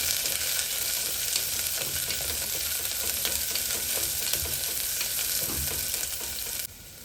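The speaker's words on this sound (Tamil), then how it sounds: "இப்போ நல்லா ஃப்ளேமை கொஞ்சம் மீடியம் ஃப்ளேமில் வச்சு நல்லா வதக்குங்க." Onions and curry leaves sautéing in a pan over a medium flame make a continuous bright hiss and crackle with faint stirring, steady throughout before dropping in level near the end, with no talking.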